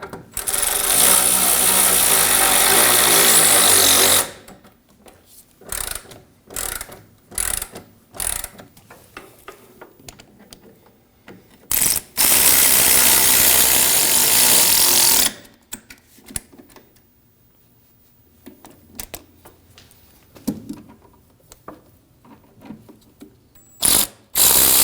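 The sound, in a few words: bolts being tightened on a Ford F-150 running board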